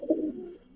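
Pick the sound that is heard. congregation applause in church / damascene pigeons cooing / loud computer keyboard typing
damascene pigeons cooing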